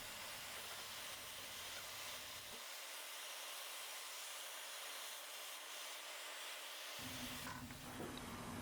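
A torch flame heats metal screws and washers during metal sculpting, giving a steady broadband hiss and roar that drops out in the lows for a few seconds midway and then returns fuller near the end, with no talk.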